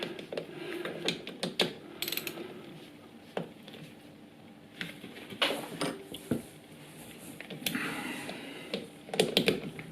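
Ratcheting clicks and light metallic tool sounds from undoing the pivot bolt on a gear change stopper arm, coming in irregular bursts of close, fairly quiet clicking with no talking.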